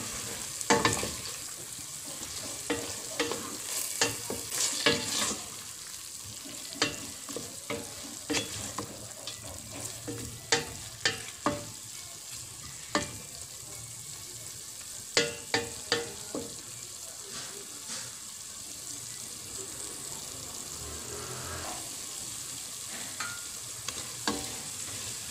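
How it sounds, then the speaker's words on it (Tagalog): Bicol-style dinuguan, a pork blood stew with dried oregano just added, is stirred in a pan, giving repeated scraping strokes over a steady soft sizzle, with no talking. "haluin mo na uli."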